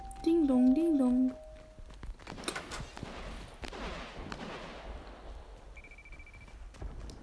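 Video game gunfire crackles in distant, scattered bursts under steady talk from players, with a whistle-like synthetic tone near the start and a brief electronic beep later.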